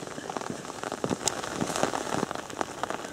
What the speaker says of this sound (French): Mais on sent bien que c'est l'été, la pluie est chaude.